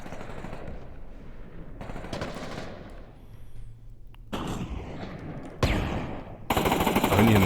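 A .50 caliber machine gun in a VR shooter game fires loud, rapid bursts at close range, with sharp gunfire and blasts breaking in between stretches of quieter game noise.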